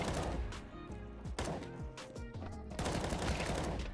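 Rapid automatic bursts from an M4A4 rifle in Counter-Strike 2, several quick strings of sharp shots at close range, loud and continuous with short gaps between volleys.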